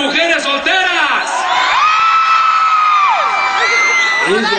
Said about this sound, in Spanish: A ver, un grito de las mujeres solteras.